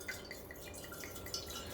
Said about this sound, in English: This is a decanter, and this is a bottle of wine. And so I'm going to pour